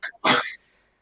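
One short, forceful sneeze comes from a person at a tabletop role-playing session, preceded by a quick intake of breath, then silence.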